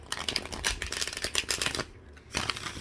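Soft, dense riffling and flicking of cards shuffled on a lap, close and continuous, with a brief pause before the shuffling resumes.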